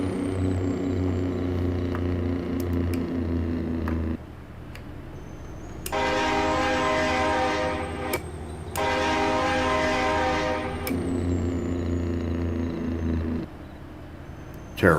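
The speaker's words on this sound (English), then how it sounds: "Tailgating them with my train horn." A loud train horn in Farming Simulator 22 blowing in long sustained blasts with brief gaps, over a constant low engine rumble, close and dominant with no talking.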